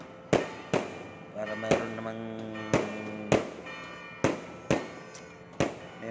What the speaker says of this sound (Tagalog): fireworks naman tayo